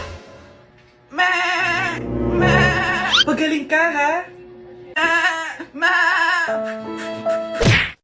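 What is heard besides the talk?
goat bleating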